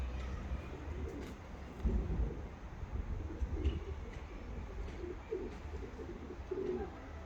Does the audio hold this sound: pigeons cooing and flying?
yes